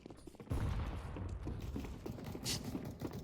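Gunfire in the Worms W.M.D video game: a dense, loud burst of rapid shots begins abruptly and continues as a rattling barrage, with no talking.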